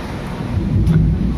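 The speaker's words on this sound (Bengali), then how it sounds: "দেখা যাক বৃষ্টি যদি এরকম কন্টিনিউ থাকে" Steady rain with deep rolling thunder rumbling under it during a thunderstorm, a continuous low roar that swells slightly toward the end.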